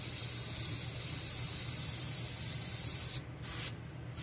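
A Border Model Black Flame airbrush sprays paint with a steady, close, loud air hiss that cuts out briefly twice near the end.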